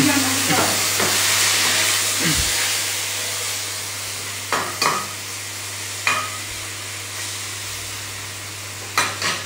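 A wooden spatula stirs and scrapes food frying in a wok over a small fire, with a constant sizzle and hiss and a few sharp scraping clacks, close by with no talk.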